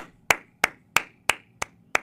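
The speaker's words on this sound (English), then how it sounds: "I got to clap it up one time for the bullpen" Six sharp hand claps, loud and close, evenly spaced at a steady rhythm with short decays and no talking in between.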